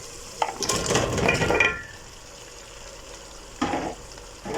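Bananas tipped into a bubbling stew pot, a burst of loud sizzling and clattering for about a second and a half, then quieter simmering with a couple of later stirring knocks against the pot.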